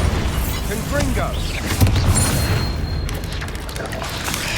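Spell blasts in a Harry Potter video game, rumbling booms and crashing bursts layered over game effects, with a player calling out over the continuous, busy din.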